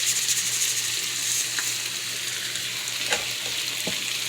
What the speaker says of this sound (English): And you're just gonna fry that real good